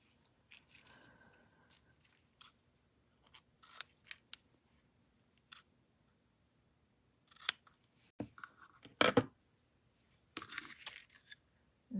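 Scissors snip off ribbon tails in a quiet room: a handful of small, crisp cuts clustered together after scattered soft handling sounds, with no talking.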